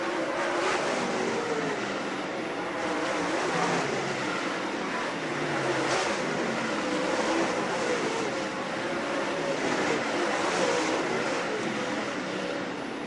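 Late model race cars race at Utica Rome Speedway, a continuous loud roar of engines at a distance that rises and falls steadily with no break.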